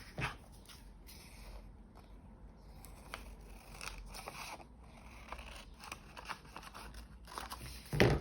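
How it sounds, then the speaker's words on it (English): Scissors cutting paper for an envelope craft project: soft, close snipping and rustling of paper in a quiet room, with several small clicks of the blades and a louder rustle at the end. "So I can cut this off here."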